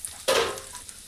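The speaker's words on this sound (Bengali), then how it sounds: "মশলাটা একটু ভাজা ভাজা করে নেব, মানে একটু লাল লাল হবে।" Dried red chillies and spices hit hot oil with a sudden loud sizzle that flares up and then slowly fades, close by and with no talking.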